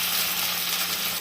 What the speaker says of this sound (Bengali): এই অবস্থায় আমি আলুটাকে ভেজে দেবো, আলুটাকে কড়া করে